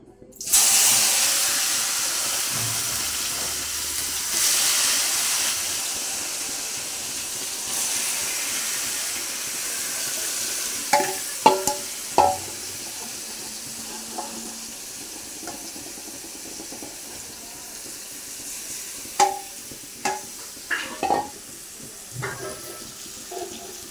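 Marinated chicken dropped into hot oil in a kadai wok sets off a loud, broad sizzling hiss that gradually settles. Sharp clinks and scrapes of a utensil against the pan come through in the second half.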